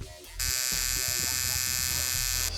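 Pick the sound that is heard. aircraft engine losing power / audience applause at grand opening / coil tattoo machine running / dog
coil tattoo machine running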